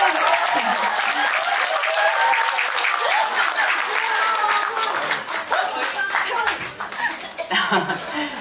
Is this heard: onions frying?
no